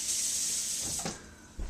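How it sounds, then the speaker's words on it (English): Warm water runs steadily from a tap into a bowl for pretzel dough, a continuous hissing pour that cuts off near the end, followed by a soft bump. "Okay, so we put in the water."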